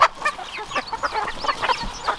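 Farmyard chickens cluck close by in quick, irregular bursts of short calls, several birds overlapping in a continuous chatter.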